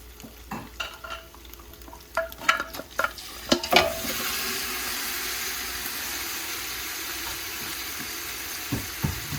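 Beef for a Guyanese pepper pot dropped into a pot once the water has cooked off, with a few sharp stirring scrapes followed by a steady, close sizzle that holds on its own with no talking.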